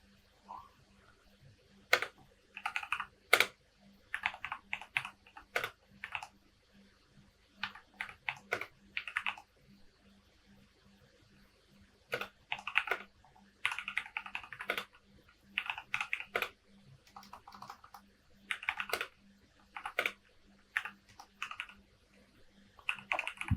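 Close-up clatter of a computer keyboard as a prompt is typed into ChatGPT, quick bursts of keystrokes separated by pauses over a faint steady hum, with no talking.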